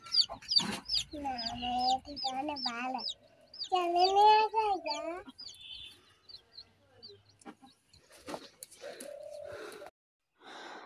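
Chickens tied up on a home balcony cluck and squawk in bursts of fairly close, lively calls, with quieter rustling and a few softer clucks trailing off toward the end.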